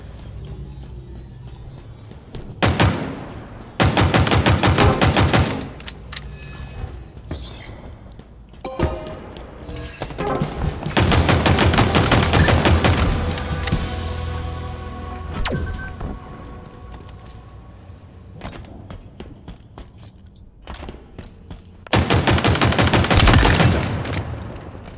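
Rapid volleys of gunfire in the video game Halo, likely pistol shots, arrive in several dense bursts of a few seconds each, loud and close, separated by quieter stretches of game ambience.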